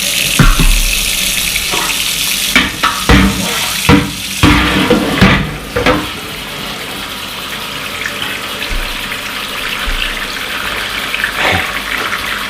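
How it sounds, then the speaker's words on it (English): Cold water pours steadily into a home-brewing pot for a dark ale, a continuous tap gush with a few clunks and splashes near the start, then settling into an even rushing flow. "Let the water drain, put some more cold water in here."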